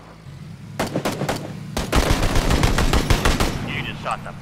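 Rapid gunshots in PlayerUnknown's Battlegrounds: several sharp close cracks, then a sustained volley of automatic fire, loud and continuous over a low rumbling background.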